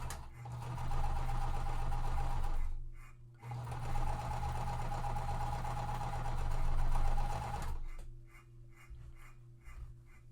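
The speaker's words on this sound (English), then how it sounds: "I'm just chain stitching these" A sewing machine chain stitches quilt pieces together in steady motorized runs, a loud whirring hum with rapid needle clatter, pausing briefly between bursts and ending with a short stop.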